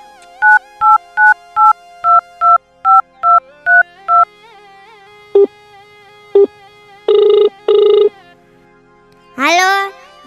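A phone number is keyed in a run of quick DTMF beeps, then two single tones and two longer ringback bursts, ending in a rising electronic warble; loud and close, no voices.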